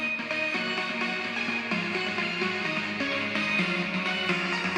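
Electronic music drop played back through a small portable speaker, a dense, steady, slightly thin mix with a pulsing beat and sustained synth tones, no talking.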